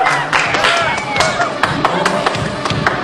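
Clapping and crowd noise for a bride and groom at a staged wedding ceremony in a comedy sketch, with scattered sharp claps and a voice carrying over the steady wash of applause.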